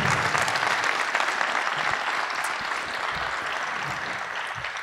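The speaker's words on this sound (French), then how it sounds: "j'aurais aimé quand même un tonnerre d'applaudissements pour Nadia et Julie" A conference audience applauds two organizers in a loud, continuous burst of many hands clapping, steady throughout with no voices on top.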